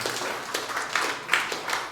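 Church congregation clapping loudly in praise during a Sunday service, a sustained ragged patter of many hands with a few sharper individual claps standing out.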